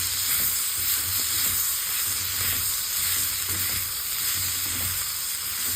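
Onions sautéing in a pan for a South Indian onion chutney, giving a steady broadband sizzle with faint low stirring scrapes underneath, continuous and fairly close with no talking.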